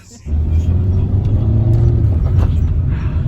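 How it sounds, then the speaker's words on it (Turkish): A car engine drones steadily and loudly from inside the moving car, a low strained rumble that holds level throughout. "Araba ıkınıyor giderken"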